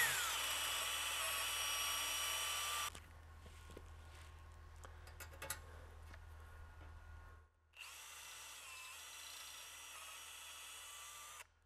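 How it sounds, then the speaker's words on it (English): A power drill bores holes in Kitfox aircraft horizontal slider blocks, whining loudly for about three seconds, then pausing amid faint handling noises before spinning up again for a second loud run. "let's get to drilling."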